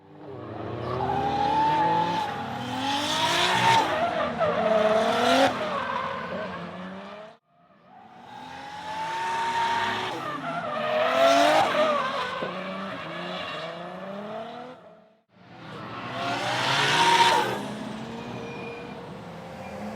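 A BMW E36 being driven hard with its tires squealing, in three loud sustained bursts of engine roar and rubber screech, each cutting off abruptly between runs.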